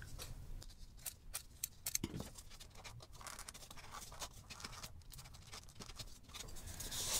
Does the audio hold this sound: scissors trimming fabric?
yes